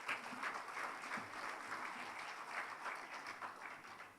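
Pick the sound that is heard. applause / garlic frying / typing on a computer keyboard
applause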